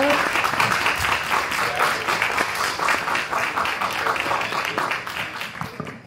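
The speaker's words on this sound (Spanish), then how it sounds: "así que un gran aplauso." An audience at a talk at a festival gives sustained applause of dense, steady clapping, with a brief voice or two mixed in before it tapers at the end.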